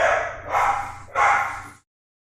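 A dog barks in a visual novel game, with two or three loud, close yelping barks in quick succession, then sudden silence.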